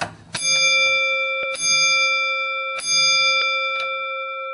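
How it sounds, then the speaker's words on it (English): An antique doorbell with a porcelain-handled ringer is rung three times, each strike a loud, close, bright metallic ding with long ringing overtones that slowly decay, plus a few softer taps between strikes, and no voices. "let me show you that it is a really loud doorbell. I'm going to ring it"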